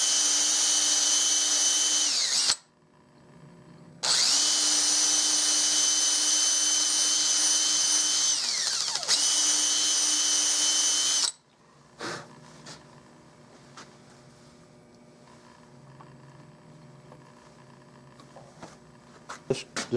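A power tool whines loudly in two long high-pitched bursts while enlarging a hole in a Mauser rifle gun stock, followed by quieter clicks and handling.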